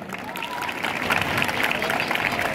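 Audience at a traditional folk dance festival in Agrinio breaks into applause, a dense, steady patter of many hands that swells slightly and holds, with faint crowd murmur underneath.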